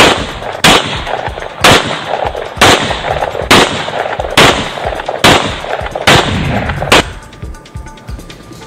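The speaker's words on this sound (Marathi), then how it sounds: "त्यानं बंदुकीतून 30 राऊंड फायर केले।" Gunfire from a German-made gun: a series of sharp, loud single shots at steady intervals of roughly one second, eight or so reports in all, with a tail of quieter ambience at the end.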